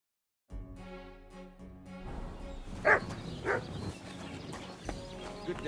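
Dog barking in the medieval role-playing game Kingdom Come: Deliverance II, two short sharp barks standing out over a busy ambient village soundscape with music-like tonal layers.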